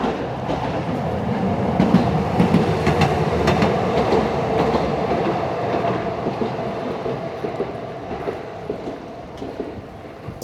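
A Tokyo streetcar pulls into the Arakawa-yuen stop with a steady rumble of wheels on rail and clickety-clack joint beats, loud and continuous from start to finish.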